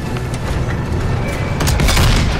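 A tank cannon shot glances off armor in a Call of Duty WW2 tank battle, a heavy metallic boom and rumble over continuous battle noise, loudest in the final second.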